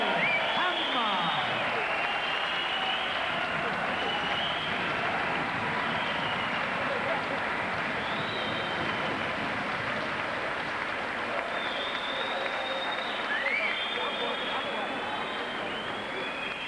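A boxing crowd at a title fight in Liverpool applauds the challenger, a broad wash of clapping and cheering heard under continuous commentary.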